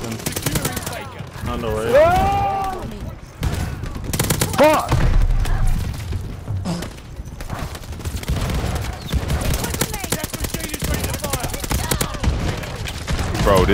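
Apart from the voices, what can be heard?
shotgun gunfire in a shooter video game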